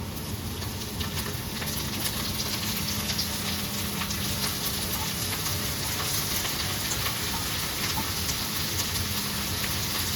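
Red amaranth leaves fry in hot oil with a loud, steady crackling sizzle that runs unbroken throughout, close and dense like heavy rain on a surface.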